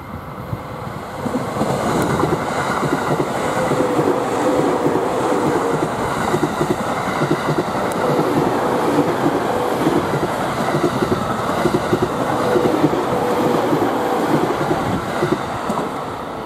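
Train running along the Tohoku line track at Higashi-Washinomiya station, a loud steady rumble and rolling rail noise with faint clicking that continues throughout.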